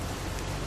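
Rain in the video game What Remains of Edith Finch, a dense, even hiss of falling rain with no individual drops standing out, lasting under a second.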